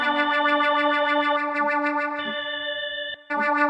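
A Yamaha PSR-SX900 arranger keyboard plays a sustained chord with a keyboard voice layered with an organ sound, steady and effects-heavy, briefly cutting out near the end before resuming, with no talk.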